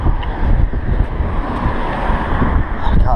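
Strong wind buffets an outdoor microphone on a street of boarded-up buildings in Burnley, a steady low rumble with gusty swells throughout, loud and close.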